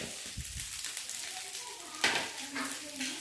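Chana dal, horse gram and urad dal fry together in hot oil for a chutney, giving a steady close sizzle with a sharp burst of crackling near the middle and light stirring scrapes.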